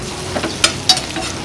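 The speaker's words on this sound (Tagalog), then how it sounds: "So our onions are caramelized already, no? And then just cook it in medium heat." Onions caramelizing in a frying pan over medium heat give a short, steady sizzle, broken by a couple of quick stirring scrapes close by.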